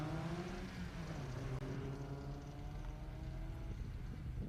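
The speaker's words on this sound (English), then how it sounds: "Here comes Richard in the Boxster" A Porsche Boxster runs an autocross course at Daytona, its engine a steady droning tone that rises and falls in pitch as it works through the course, heard from a moderate distance.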